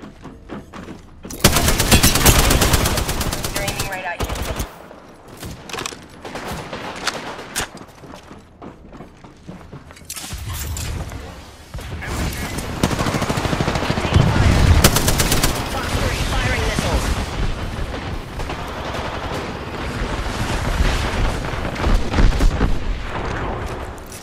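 Video game gunfire rattles almost nonstop for about twenty seconds, dense machine-gun bursts and heavy booming shots close up, with a short lull around the five-second mark and occasional voice callouts over the din.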